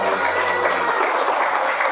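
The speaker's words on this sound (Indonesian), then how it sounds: "Berikan dulu tepuk tangan buat ananda kita." A crowd claps in a dense, steady burst of applause for a child's Quran recitation at a Maulid Nabi celebration, continuous throughout with no talking over it.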